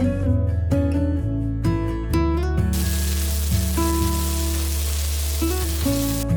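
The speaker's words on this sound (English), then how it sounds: "We will let the beef pan fry until the bottom is slightly brown." Beef frying in a hot pan for Thai basil beef, a steady loud sizzle running throughout with hard clattering and scraping of utensils against the pan over the first couple of seconds.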